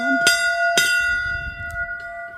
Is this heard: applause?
no